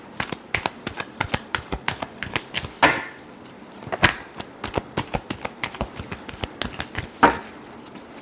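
Tarot cards are shuffled in quick, crisp riffling bursts, with dense rapid slaps and snaps of the cards repeating close up throughout, and no talking.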